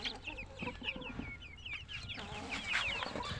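Several laying hens cluck and chatter nearby, a busy overlapping mix of short clucks and calls with no voices.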